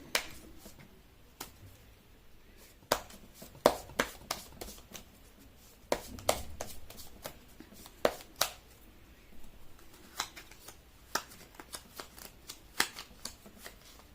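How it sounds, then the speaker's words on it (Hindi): Tarot cards are shuffled by hand at close range. Sharp riffles and soft slaps come in irregular bursts against a quiet background. "कर लेती हूँ कार्ड की शफलिंग"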